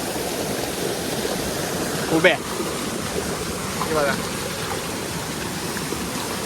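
Water pours steadily at Usgaon waterfall, a continuous broadband rush filling the scene, while someone speaks briefly over it.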